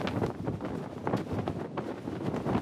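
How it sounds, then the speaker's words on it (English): An American flag flaps in the breeze, with irregular fluttering snaps and buffeting wind rush close to the microphone, continuous and without voices. "It's the American flag waving proudly in the breeze."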